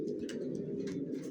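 Young racing pigeons, two pairs of moulting babies, coo in a continuous low throaty murmur close by, with faint fluttering and scuffing noises on top and no talking.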